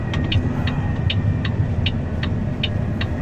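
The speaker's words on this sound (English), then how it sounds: "we're pulling into the Loves now" A truck rolls slowly into a small Love's truck stop lot, its engine a steady low rumble and throb close by, with faint regular clicks ticking over it.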